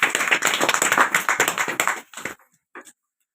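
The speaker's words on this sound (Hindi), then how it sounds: "जोरदार ताली बजा दी।" Audience at an RCM business meeting claps loudly in a dense burst of hand claps that tapers off after about two seconds into a few scattered claps, with no talking.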